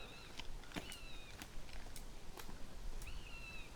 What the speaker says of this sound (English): just above us I can hear a buzzard